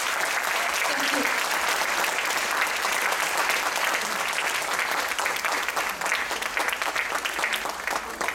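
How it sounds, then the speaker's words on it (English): Audience applause at a Silambam Houston 10th anniversary event, a continuous even wash of many hands clapping that holds steady throughout and thins slightly near the end. "Now, ladies and gentlemen, another round of applause for all of you."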